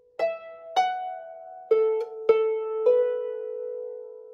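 A harp plucks a short phrase of the Fathaby Jig, five clear notes spaced apart, each ringing on and fading, played alone and close.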